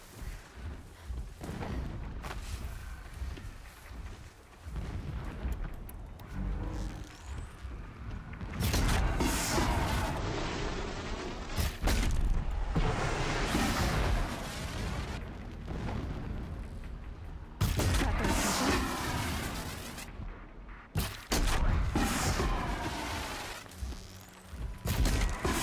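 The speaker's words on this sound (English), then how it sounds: "Explosions in the distance." Distant explosions rumble in Horizon Zero Dawn, heavy booms and rolling blasts repeating through a long stretch of ongoing game combat, with no voices over them.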